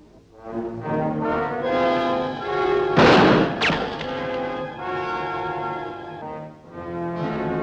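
An execution in a period drama brings a single loud volley of gunfire, a short sharp crash that bursts out over a sustained orchestral music score.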